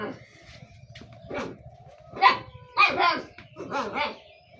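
A dog gives several sharp barks and yips close by, with a short whimpering tone between them, while a person speaks softly in the background.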